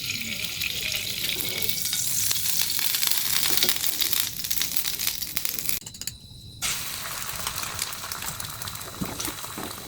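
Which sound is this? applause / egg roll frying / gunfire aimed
egg roll frying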